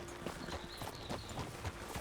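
In Red Dead Redemption 2, horse hooves clip-clop at a steady walking rhythm. The footfalls are faint and come from a little way off, with no one talking.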